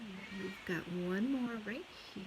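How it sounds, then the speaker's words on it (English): A house cat meows repeatedly in the background while a person talks nearby during a knitting lesson, its drawn-out cries rising and falling and overlapping the speech. "I apologize for the cat in the background."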